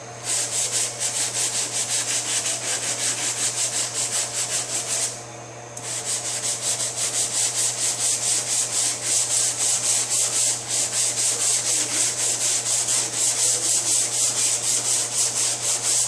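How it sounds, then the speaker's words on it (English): Steady, rapid back-and-forth hand sanding of body filler on a 2005 Honda S2000, close and loud, continuing for a long stretch with one brief pause partway through. "I'm sanding in such small areas, putting all the filler in one place"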